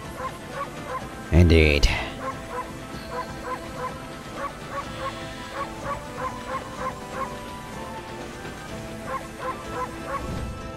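A white wolf's bark in Okami HD, Yoshpet Forest: a short loud yip lands near the start, then a steady rhythmic pattern of plucked game music continues. A voice says a single word just before the bark.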